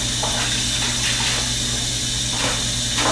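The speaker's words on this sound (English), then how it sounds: "That's pretty hot water coming out right now." Hot water runs hard and steady from a tap into a sink or pot while a frozen turkey is being thawed, a loud continuous gushing rush with slight churning variations throughout.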